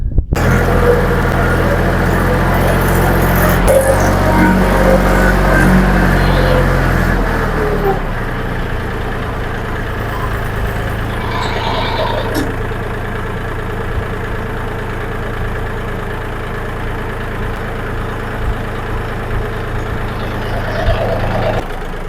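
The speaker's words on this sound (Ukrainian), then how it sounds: "Зараз підійдемо туди трактором, зачіплю його і спробую якось сюди його акуратно завести." A tractor engine runs steadily up close as it moves off to tow an extruder, a loud low drone that drops in pitch partway through and keeps rumbling, with people talking over it.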